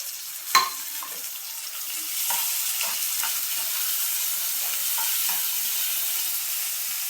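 Onion fried until pink, then finely chopped tomato added to the pan, gives a steady broadband sizzle throughout, with a sharp splat near the start and a few soft stirring clicks on top; no one speaks.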